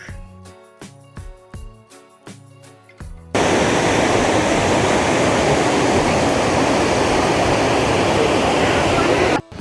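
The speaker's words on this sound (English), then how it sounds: "This is a small fall, and the water from here flows ahead and forms the big falls which we saw earlier." A few seconds of rhythmic music give way abruptly to a steady, loud rushing roar of water from a small fall on the Markandeya River near Gokak, continuous and close.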